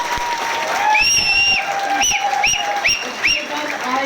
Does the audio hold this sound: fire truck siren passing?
no